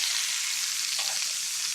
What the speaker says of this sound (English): That sizzle is a good sound.